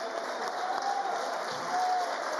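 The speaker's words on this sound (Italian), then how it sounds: "Applausi convinti dei tifosi friulani nei confronti di Lollo Penna" Friulian basketball fans at a GSA Udine home game against Kapfenberg clap for a departing player, a soft, even patter of crowd applause that sounds somewhat distant and never swells into cheering.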